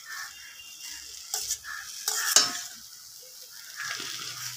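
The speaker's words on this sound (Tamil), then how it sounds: "இப்போ சாப்பாடு போட்டு நம்ம கிளற வேண்டியதுதான்" Cooked rice being stirred into a mango rice seasoning in a pan, with soft frying sizzle and intermittent scraping bursts of a spoon against the pan.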